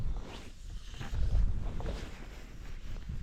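Wind gusting across a Scourie hill loch, a low, steady buffeting roar that swells and eases, rather faint with no voices.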